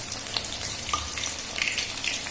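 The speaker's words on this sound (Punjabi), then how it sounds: "ਸ਼ਿਮਲਾ ਮਿਰਚ ਇਹਨੂੰ ਫਰਾਈ ਕਰ ਰਹੇ ਹਾਂ" Bell peppers fry in a pan with a steady, close sizzle, broken by light crackles and a few soft stirring scrapes throughout.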